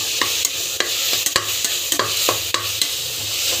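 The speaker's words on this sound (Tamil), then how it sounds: "இஞ்சி பூண்டு பேஸ்ட் ஆட் பண்ணிவிட்டு நல்லா வந்து வதக்கி எடுத்துக்கோங்க" Ginger garlic paste sautéed in a pan for jackfruit biryani: a loud, close, continuous sizzle broken by quick rhythmic scrapes and taps of a spatula.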